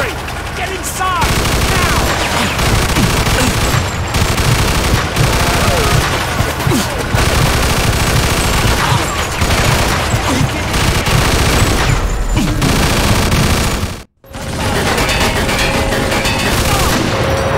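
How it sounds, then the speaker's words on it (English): Dense machine gun fire rattles almost nonstop in a Mafia II battle scene, loud overlapping bursts with heavy booms mixed in, a brief silent gap near the end before the firing resumes. "Get on that machine gun!"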